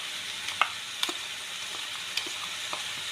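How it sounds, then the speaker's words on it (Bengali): Coconut paste is added to spices frying in a pan, making a steady sizzle with a few sharp utensil clicks and scrapes scattered through a short span. "এবার পেস্ট করে রাখা নারকেলটা দিয়ে দিচ্ছি"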